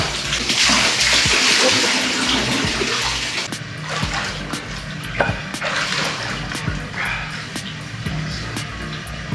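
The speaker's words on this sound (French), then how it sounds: "j'ai rallumé le robinet d'eau froide" A cold water tap runs steadily into a hot spring bath in Chiang Rai, Thailand, giving a loud, continuous gushing and splashing that eases slightly partway through, with no talk over it.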